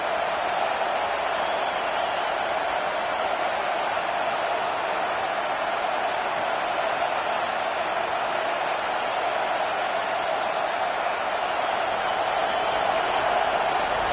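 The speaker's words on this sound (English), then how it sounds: "It's early, but this crowd is fired up. Listen to this noise here." A stadium crowd at an American football game roars in a continuous, even wash of cheering noise that stays loud and unbroken for the whole stretch.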